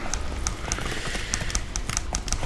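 Rhythmic horse hoof clip-clops from the video game The Witcher 3: Wild Hunt tap along at an uneven trotting pace over a busy background hum, fairly close and distinct.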